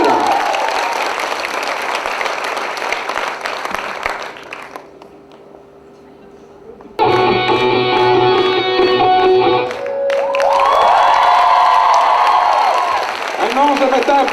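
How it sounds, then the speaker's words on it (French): A festival audience in Divonne claps after a music-video screening with a dense burst of applause that fades out, then resumes loud and full alongside a musical sting and a voice. "un tonnerre d'applaudissements pour ces messieurs"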